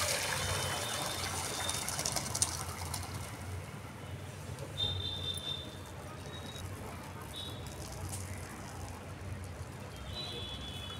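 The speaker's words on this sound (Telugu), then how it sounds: "వాటర్ మొత్తం ఒక జల్లెడలో దింపేసుకోవాలి." Water from boiled rice is drained through a sieve for chicken dum biryani, giving a steady pouring and trickling rush close by, with faint birdsong in the background.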